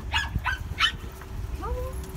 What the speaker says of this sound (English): That was a big doggy and he was barking like a chihuahua